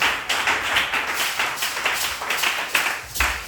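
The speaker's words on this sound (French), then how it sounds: "Applaudissez le Seigneur." A church congregation at a Sunday service claps together, a steady rhythmic patter of many hands that runs unbroken for a few seconds at moderate, close range.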